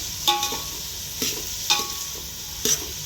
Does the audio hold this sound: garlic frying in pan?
yes